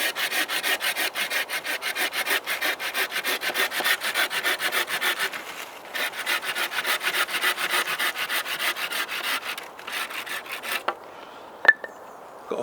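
A handsaw cutting a piece of wood shorter at a campsite, with fast, even rasping strokes, close and continuous for about ten seconds before stopping, followed by a few faint knocks.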